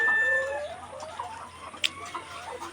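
Layer hens on a poultry farm give a run of nearby clucks and short calls, one sharper squawk standing out midway, with no voices.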